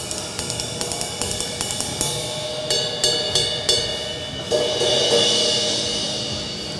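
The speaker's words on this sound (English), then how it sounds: "Here's our 20-inch medium ride" A 20-inch Zildjian medium ride cymbal struck in a steady pattern of crisp stick pings over a shimmering wash, then a louder crash that rings and decays, no voices.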